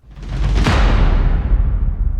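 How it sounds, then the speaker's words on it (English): A whoosh bang from a free trailer sample pack swells quickly into a loud, broad impact, then a dense rumbling tail sustains and slowly decays, with no voices. "You also get these whoosh bangs."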